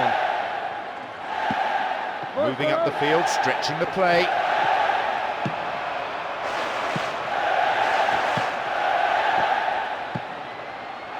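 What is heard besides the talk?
stadium crowd reacting in football video game PES 2009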